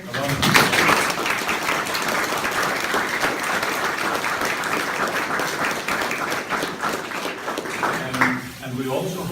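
Sustained audience applause fills the space at a wartime airfield memorial gathering, steady and fairly close, with a brief lull and swell near the end and some voices mixed in.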